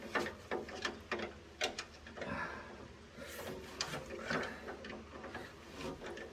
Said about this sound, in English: you're gonna take your handy dandy wrench here and you just turn it down